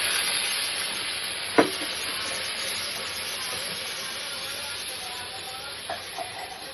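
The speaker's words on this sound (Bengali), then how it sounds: "এই দেখো এখন টকবগিয়ে এটা ফুটছে" Duck egg, cabbage and spice curry boiling in a wok, giving a steady close sizzle and bubbling hiss throughout, with a single sharp clink near the start and a couple of faint knocks toward the end.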